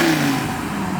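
A cammed, boosted Gen 2 Dodge Viper pulls out of a car meet, its engine giving a brief, choppy lumpy burble with a torque converter stutter, close and fairly loud.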